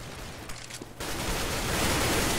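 Dense burst of Counter-Strike: Global Offensive gunfire in a competitive match, a brief quiet stretch breaking into loud, sustained rapid shots that fill the rest of the moment, with no voices.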